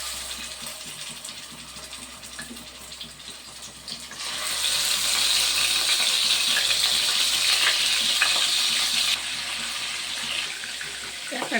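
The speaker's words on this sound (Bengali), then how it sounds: "মাছগুলো ভেজে নিচ্ছি" Shankar (murali) fish fries in hot oil in a wok with a steady, bright sizzle that jumps louder as pieces go in, then eases slightly but keeps crackling close by.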